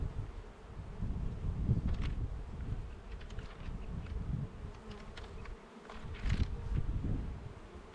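Honey bees buzzing around a freshly installed hive, a dense continuous drone close by with swelling and fading intensity and some wind and rustling mixed in.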